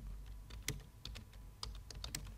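Fingers type on a computer keyboard while filling a fillable form in Word 2016, quiet irregular key clicks in short bursts with brief pauses, close and faint.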